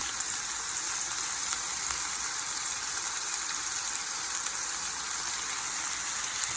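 Food fries in a pan with soy sauce added, a loud, steady, even sizzle that stays close and continuous, with no talking.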